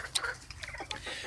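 Chickens in a flock of about thirty cluck softly and intermittently at close range, with short chirpy calls scattered over a quiet background.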